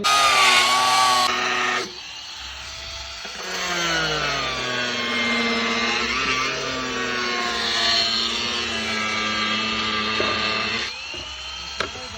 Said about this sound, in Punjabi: ਗ੍ਰੈਂਡਰ ਦੀ ਮਦਦ ਦੇ ਨਾਲ ਆਪਾਂ ਵੱਢਿਆ ਇਹਨੂੰ